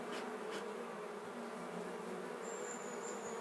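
Honeybees buzz as they are let out of their hives set in a private woodland, a soft continuous drone of many insects close by, with no talking.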